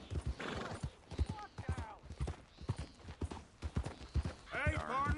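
Horse hooves clip-clopping with a sharp whinny near the end, from a mount in the Red Dead Redemption 2 video game, heard close and under intermittent talking voices.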